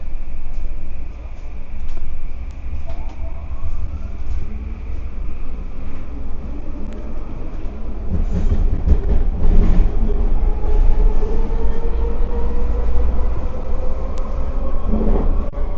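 A metro train rumbles loudly into Waterfront station in Vancouver, steady low roar and rising whine building as it pulls in, with faint voices inside.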